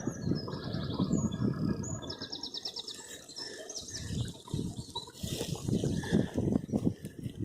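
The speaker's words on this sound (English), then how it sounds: "In goes the water." Water from a hose pipe running into plastic drums on a UK allotment, a steady trickling, splashing flow with birds chirping nearby.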